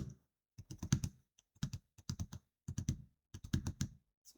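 Close, crisp keystrokes on a computer keyboard come in quick clustered bursts with short pauses between words.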